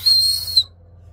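A single shrill whistle blast from a small whistle clipped to a Gerber Ultimate knife sheath, loud and close, lasting just over half a second before cutting off.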